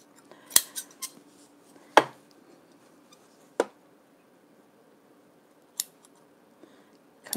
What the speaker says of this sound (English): Cut my threads.